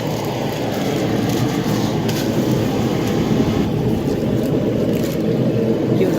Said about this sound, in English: Sorry about the noise in the heater.